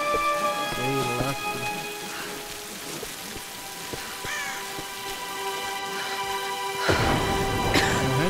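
Steady rain hisses on surfaces while crows caw now and then, with a sustained tonal drone underneath and a louder surge of rain near the end; rain in the video game Tomb Raider.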